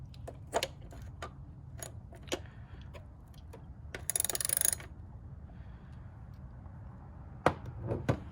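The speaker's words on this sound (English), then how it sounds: "take out your wrench with the 8mm socket and go ahead and make it tight" Ratchet wrench with an 8mm socket tightening a spark plug on an S550 Mustang GT, giving sharp scattered metallic clicks and taps, one buzzing ratchet burst midway, close and alone over a quiet background.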